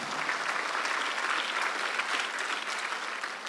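A congregation at a Korean Sunday worship service breaks into brisk, continuous applause, a full, even wash of many hands clapping at close range throughout, with no talk rising above it.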